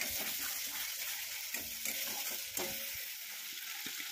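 Ginger, salt, turmeric, chopped tomato and sour curd sizzle steadily in hot oil for a paneer curry, with a few soft scrapes of stirring and no talking.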